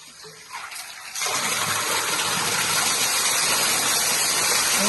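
After a brief quiet moment, water suddenly bursts out and keeps gushing loudly and steadily, a strong continuous rush up close.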